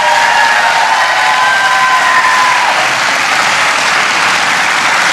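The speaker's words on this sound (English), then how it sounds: "Please give them a round of applause." An audience applauds at a health professions graduation commencement ceremony, a loud, sustained wash of clapping from a large crowd with a faint cheer or whistle early on.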